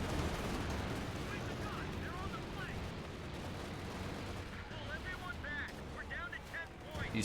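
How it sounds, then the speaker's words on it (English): Dense, continuous battle noise from the Company of Heroes 2 video game during a Stuka dive bomber attack, with rumbling explosions and gunfire layered under a loud commentator's voice. "Oh my god, Stuka dive bombers coming in hard."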